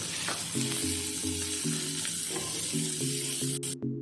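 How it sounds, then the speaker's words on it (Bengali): Chopped onions fry in a pan with a constant close sizzle while being stirred, set against a repeating low tonal hum, ending in a sudden cut. "কুচিয়ে রাখা পেঁয়াজ আরও এক মিনিট মতো হালকা করে একটু নাড়িয়ে নেবো আমি"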